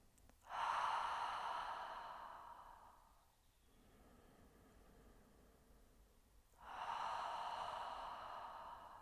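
Ujjayi breathing for a pregnancy exercise, with a gentle constriction at the back of the throat. A long, loud, hissing exhale like a sigh is followed by a quieter, airy inhale, and then another strong sighing out-breath. Close and alone, with no talk.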